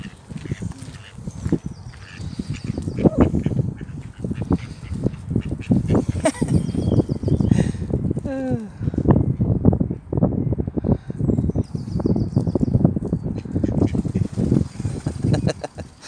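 Ducks in Stanley Park squabble while being fed, with close, rough quacks and honking calls repeating in irregular bursts amid rustling and outdoor background noise.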